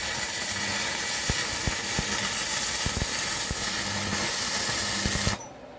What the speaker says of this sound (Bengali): এই দেখবেন টানা ওয়েল্ডিং আমি একটা টানা কাজ করি দেখেন